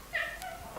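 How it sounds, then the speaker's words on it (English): A cat gives a single short, fairly faint meow near a kitchen table, a brief rising cry over quiet room tone. "the cat wants some"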